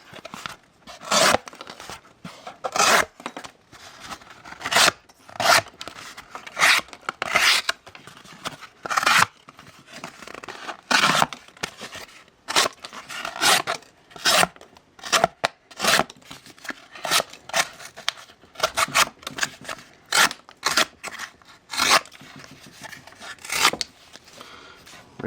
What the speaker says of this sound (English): there's an easy way to sharpen your recurve blades on a bench stone